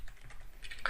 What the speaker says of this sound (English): We will just type this.